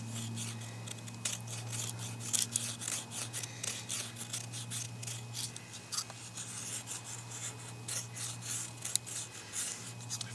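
Becker BK17 clip point knife shaving fine curls from wood inside a vehicle, a run of close, dry, rasping scrapes in an uneven rhythm over a steady low engine-like hum.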